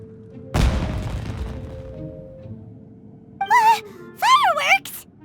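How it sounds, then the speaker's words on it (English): A single deep firework boom in the Genshin Impact video game, a sharp blast with a long fading rumble, followed later by short musical game voice sounds. "Huh? Was that an explosion? It sounded like fireworks."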